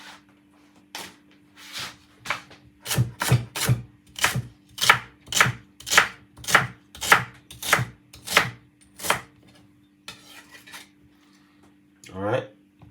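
Celery sticks are chopped on a board with a knife, a rapid run of crisp, evenly spaced close thwacks that builds in loudness and then tapers off, with a brief voice near the end.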